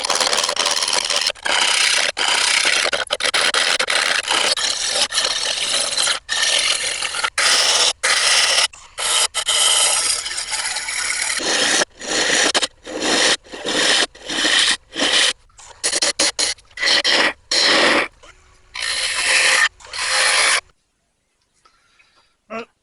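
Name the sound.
wood turning a bowl blank on a lathe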